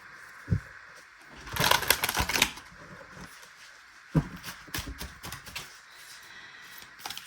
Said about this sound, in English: I like these combined decks, but man, sometimes they're hard to shuffle.